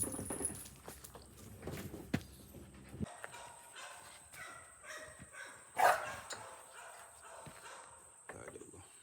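A pup barks and scuffles while playing with a flirt pole, with a few short barks and footsteps, one sharper bark standing out midway, and a person talking early on.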